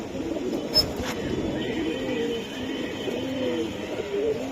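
Pigeons coo softly and continuously in a small flock nearby, their low burbling calls overlapping steadily, with a brief louder flutter near the start.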